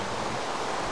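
Minecraft rain falling as a dense, even hiss of steady noise, unbroken over a very brief moment.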